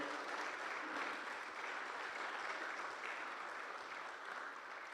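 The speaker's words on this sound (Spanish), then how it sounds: "¿Le damos un fuerte aplauso al Señor?" A church congregation applauds steadily, a dense wash of clapping hands that holds evenly throughout, fairly distant and without speech over it.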